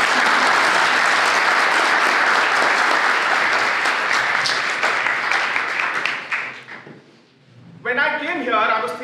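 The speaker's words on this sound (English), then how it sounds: "a big round of applause for the faculty to allow this" A law school audience applauds the faculty, dense loud clapping that swells and then tapers off, followed by a brief lull before a voice begins speaking.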